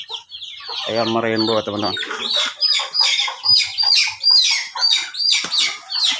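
Rainbow village chickens on a free-range farm cluck and squawk nearby in repeated bursts, with one louder drawn-out call, while a person talks over them.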